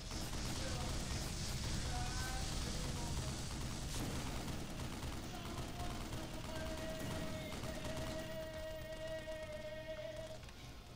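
A cannon fires in the video game Black Mesa, rapid bursts of gunfire and blasts mixed with game music and tonal effects, loud and continuous.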